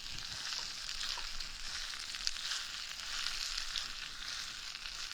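Tofu and wood ear mushrooms sizzle in a hot clay pot, a steady close hiss of frying oil that crackles evenly throughout without talk.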